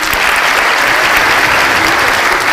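An audience in a university hall applauds steadily and loudly throughout, a dense wash of clapping with no talk over it.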